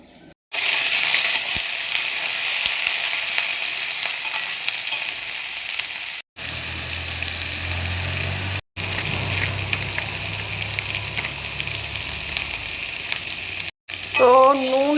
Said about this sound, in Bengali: তো নুন আর হলুদ দিয়েছি এবং এটাকে এখন ভাজতে হবে।